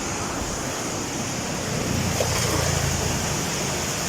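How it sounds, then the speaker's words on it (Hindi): Water rushing fast through a gate of the old Head Sulemanki barrage, a steady, loud roar of churning flow that swells slightly partway through. "ये देखें, ये पानी गुजर रहा है स्पीड से।"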